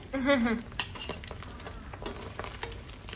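Battered shrimp heads deep frying in oil bubble and crackle at a low level, with a brief clank of a utensil or pan near the start and scattered small pops throughout.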